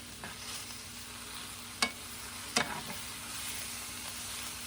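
Leftover steak with caramelized onions and peppers heats in a pan for a steak sandwich, producing a constant soft sizzle broken by two sharp clinks of a utensil.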